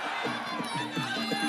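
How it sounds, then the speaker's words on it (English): Packed stadium crowd roaring and cheering at a Thai Fight Muay Thai event in Betong, 2019, a dense continuous wall of voices with rising shouts. "Crowd are going crazy here in Betong."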